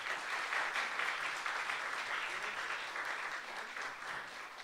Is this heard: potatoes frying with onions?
no